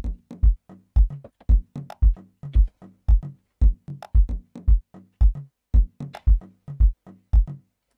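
Amapiano drum pattern programmed in FL Studio, a punchy kick and percussive hits in a steady syncopated groove, dry and upfront with no other instruments.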